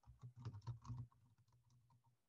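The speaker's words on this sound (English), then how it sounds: "typing their notes here in that space." Keys on a computer keyboard are pressed in quick, uneven bursts of soft clicks that thin out toward the end, faint and close with nothing else heard.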